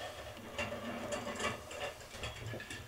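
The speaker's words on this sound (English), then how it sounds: "So now I just got to adjust this clamp out." Ratcheting, clicking mechanical adjustment of a clamp on a floating router mortise and tenon jig, a steady run of close, busy ticks and rattles with no talking.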